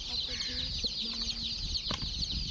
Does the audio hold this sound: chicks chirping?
yes